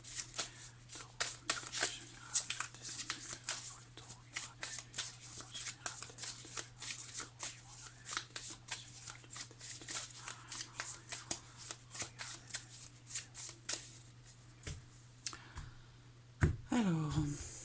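Tarot cards are shuffled by hand in quick, crisp riffles and flicks, close and continuous, with a low steady hum beneath and someone speaking French briefly near the end.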